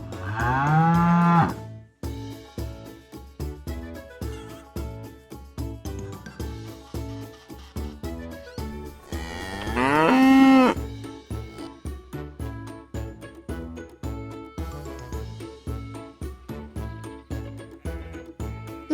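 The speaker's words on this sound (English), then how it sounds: "Look, here's the cow." Cows on a farm low with long drawn-out moos, one at the start and another in the middle, set against steady background music.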